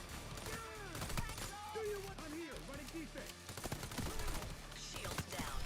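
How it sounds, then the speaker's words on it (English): Gunfire in the Payday 3 video game: rapid bursts of sharp shots crack through busy in-game sound, with swooping tonal effects and voices mixed in, and the firing grows denser toward the end. "That's a lot of bullets."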